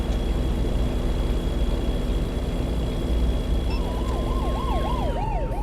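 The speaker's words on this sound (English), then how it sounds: "It was a police car!" A police car siren wails over steady road and engine noise, a constant high tone at first, then rising and falling yelps near the end, with no voices.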